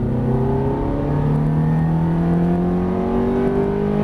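A Ferrari F430 on track revs under steady throttle, its engine note rising smoothly in pitch with strong harmonics, loud and close throughout with no voices.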